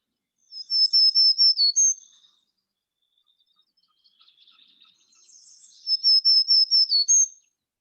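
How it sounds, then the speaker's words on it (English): A warbler in a lakeside park sings two short, bright phrases of rapidly repeated high notes ending in an upward flourish, with a quiet gap between the clear, fairly close songs. "one of my favorite warblers, because this song"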